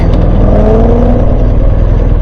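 A BMW R 1250 GS motorcycle rides through traffic, its engine loud and close with a steady throbbing drone that swells slightly as it revs.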